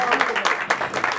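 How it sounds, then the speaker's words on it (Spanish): A short burst of dense clapping at a birthday celebration with a juvenile mariachi band, loud and close, with voices mixed in. "Y un aplauso bien fuerte,"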